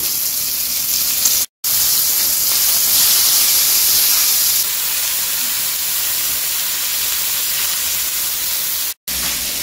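Fish fries with little oil on a hot stone griddle under a lid, making a loud, steady steam hiss and sizzle that holds almost without change, cut by two brief moments of silence.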